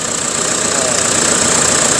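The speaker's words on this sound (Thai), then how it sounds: "เสียงเครื่องยนต์นิ่มๆนะครับ" A single-cab Toyota Vigo pickup engine idles smoothly up close: a loud, even, continuous rumble with a steady high whine and no breaks.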